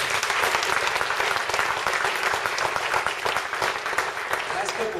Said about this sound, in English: Now, let's have another round of applause for Val and everyone at Damietta